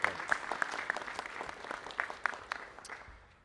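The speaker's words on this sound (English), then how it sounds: "Please give her a round of applause as well." Small press conference crowd at an Indigenous land initiative event giving a round of applause, scattered individual claps standing out sharply at first, then thinning and fading to quiet by the end.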